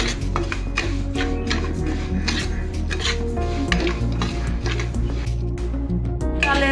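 A utensil stirs gobindobhog rice dry-roasting in a pan, scraping and clinking steadily against the metal with a busy, continuous rattle, close and loud, with music playing underneath.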